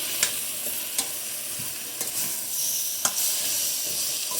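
Soya chunks (meal maker) frying in a pan, a steady sizzle with a few sharp stirring scrapes and clinks scattered through it, close and moderately loud with no talking.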